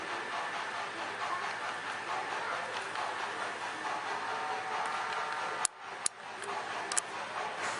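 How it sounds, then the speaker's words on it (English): Model train rolling along the track at a model railroad museum, a continuous light rattling hum with a few sharp clicks near the end. "Just film the rest of the train coming here."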